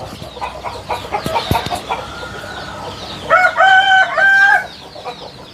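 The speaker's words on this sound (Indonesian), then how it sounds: "Guys, ini ayamnya pengen dikurung lagi kayaknya ya." Hens on a small home-based farm cluck in short bursts and then a rooster crows loudly and nearby, a long drawn-out call standing clearly above the background.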